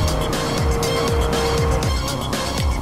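A car driving backwards in Roblox Jailbreak, a steady engine drone with repeated sweeping tire-squeal swoops and rushing noise, loud and close throughout.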